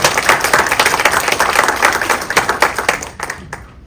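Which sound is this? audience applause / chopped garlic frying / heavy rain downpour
audience applause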